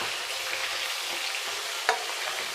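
Vetki fish bones frying in hot oil over a medium-high gas flame, a dense steady sizzle close up with a brief crackling burst near the end.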